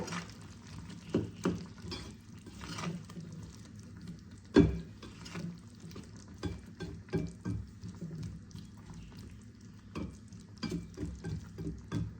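A spoon scrapes and stirs through amla pickle as half a spoon of chaat masala is worked in: soft, irregular clinks and wet scraping, with one sharper knock partway through and no talking.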